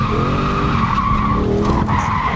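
A Lexus drifting on a track gives a loud, sustained tire skid and squeal over a rough engine note, close and continuous for a couple of seconds.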